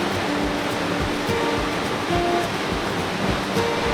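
A waterfall on Cascade Creek Trail in Colorado, heard as a steady, dense rush of falling water that stays constant throughout, with no voices.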